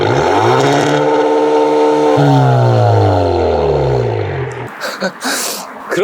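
With the variable exhaust valve open, a stationary Kia K5 GT Line revs in two rising, falling sweeps, loud and near, then settles to a low idle as a voice speaks briefly over it.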